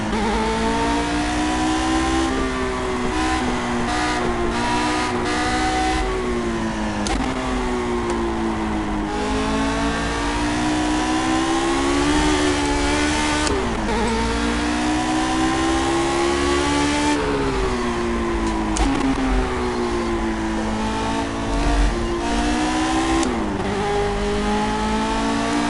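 A race car engine in Project CARS drones loud and continuous, its pitch rising and falling through revs and shifts, with the tyres sliding for want of grip and no voices over it.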